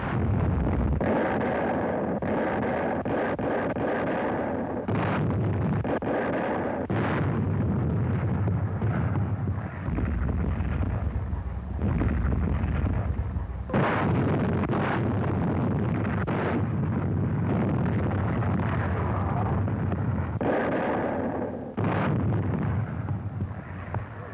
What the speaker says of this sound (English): With their targets spotted, the warships went into action.